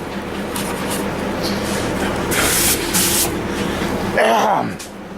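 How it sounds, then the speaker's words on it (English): An aerosol can sprays primer onto a sanded car door in short hissing bursts, two close together midway, over a steady low mechanical hum. "spray some primer on it to see what it looks like"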